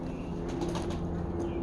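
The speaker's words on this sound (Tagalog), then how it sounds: "May manok, may kalapati." A pigeon coos softly beside a large cage, a low murmuring call repeating steadily over a constant background hum, with a chicken kept nearby.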